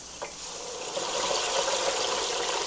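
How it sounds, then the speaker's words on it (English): Frozen Ore-Ida fries dropped into hot oil in a deep fryer, a steady hissing sizzle close up that swells after the drop and continues without talk. "So I'm dropping the fries."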